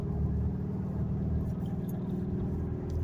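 Hemi V8 exhaust on a WK1 Jeep Grand Cherokee SRT8 at light throttle, a low, steady rumbling drone heard fairly quietly and continuously, without voices.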